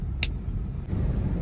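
A car drives along Karachi roads, its steady low engine and road rumble filling the interior with a brief higher click near the start.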